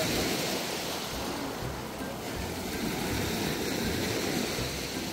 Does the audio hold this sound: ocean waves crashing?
yes